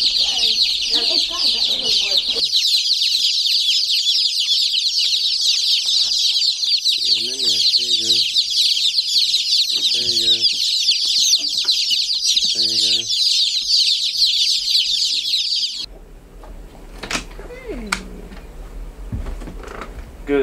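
Chickens cluck repeatedly in short bursts on a farm, close by, over a constant high-pitched hiss that drops out near the end, leaving quieter noises.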